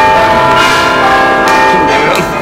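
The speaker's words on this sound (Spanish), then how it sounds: "Enrique, aquí tenemos una campana, cara. Ahora la vamos a tocar de aquí" A large bronze church bell in a tower rings with one loud, sustained metallic clang that hums on for over two seconds with rich ringing overtones.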